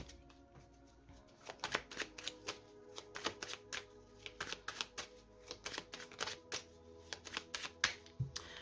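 Tarot cards are cut and shuffled by hand, a quick series of crisp riffles and taps, close and fairly quiet, with no talk.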